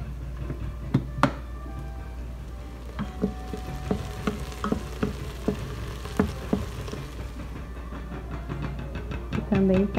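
Bacon and chopped scallions frying in a pan, with a low steady sizzle under frequent clinks and knocks of a utensil against the pan and a low background rumble.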